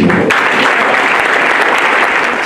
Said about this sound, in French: Donc merci, vous pouvez tous les applaudir.